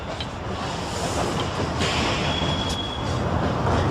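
Rail cars pushed over the hump at the Colton rail yard rumble and roll steadily with a constant low-frequency grind, a faint thin squeal of wheels on rails rising briefly partway through.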